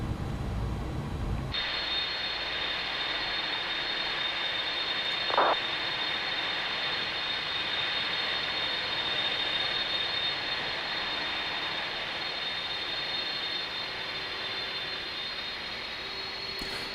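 Simulated Airbus Beluga jet taxiing in X-Plane 11, a steady broadband engine whine and rumble with a thin high tone, continuous and fairly loud, with one brief click partway through.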